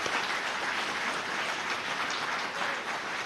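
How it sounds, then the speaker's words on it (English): Steady, dense applause from an audience at a city State of the City address in Cupertino, California, sustained and fairly loud throughout with no talking over it. "Let's give Fremont Union High School District a round of applause."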